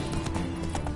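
Hooves of Roach, the horse in The Witcher 3 video game, clip-clop in a steady galloping rhythm, loud and close, over a constant low game hum.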